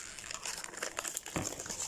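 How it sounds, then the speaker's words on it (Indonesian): A plastic ice cream wrapper crinkles and rustles up close as it is torn open, with a brief thump partway through. "Kita buka plastik."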